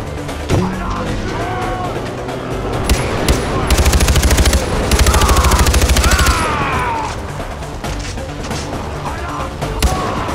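Rapid automatic gunfire and scattered single shots crackle through a Far Cry 4 firefight, with dense bursts in the middle and a voice speaking between volleys.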